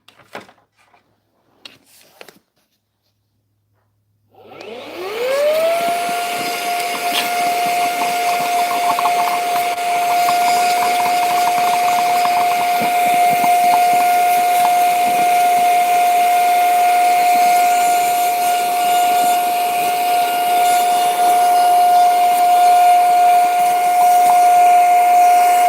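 A small vacuum cleaner starts up after a few quiet seconds with some faint clatter, then runs loud and steady, its motor holding a high whining tone over a broad rushing hiss.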